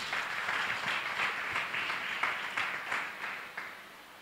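A church congregation claps along during a Sunday service, a fairly steady rhythm of hand claps merging into applause at moderate distance, with no clear talking.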